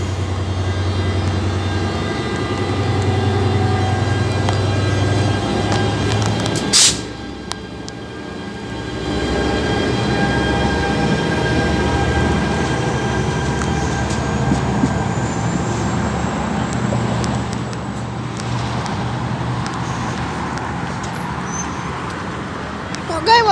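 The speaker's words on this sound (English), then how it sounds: "There's another train coming." A train passes near the platform at Point Pleasant Beach station, a steady low rumble and rolling noise that holds for most of the span, with a sharp burst early on and voices talking over it.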